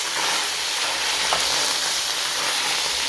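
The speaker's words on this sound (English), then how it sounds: "And we also add our carrots. Stir up your things." Carrots are stirred into a pan of frying beef stew with eggplant, a loud continuous sizzle close by with faint scraping of the stirring utensil throughout.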